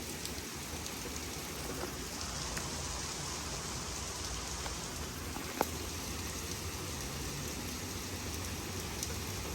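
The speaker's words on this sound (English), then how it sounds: "Out of all the days it could have rained" Rain falling outside, a steady dense patter on surfaces with occasional louder drops, continuous throughout with no voices.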